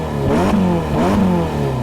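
A 2015 Ferrari California T's 552-horsepower twin-turbo V8 gives two quick throttle blips. Each one swells and falls sharply in pitch, loud and close.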